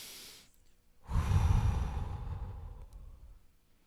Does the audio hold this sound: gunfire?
no